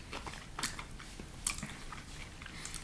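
A Reese's cup with potato chip inside being chewed, crisp crunching bites scattered unevenly across the stretch, close to the ear and moderately loud.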